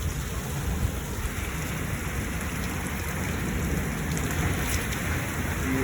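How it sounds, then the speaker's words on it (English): A steady, dense downpour of thunderstorm rain hammers surfaces outdoors in North Dakota, a constant loud roar with no breaks and no clear thunderclap. "We haven't had a storm like this in a long time, though."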